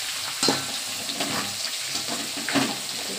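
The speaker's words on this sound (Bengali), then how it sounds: "আমি ভাজবো, তারপর উল্টে দেবো, ভাজতে থাকবো এইভাবে।" Pieces of bhetki fish fry in a pan with a continuous close sizzle, broken by a couple of brief clatters as they are moved.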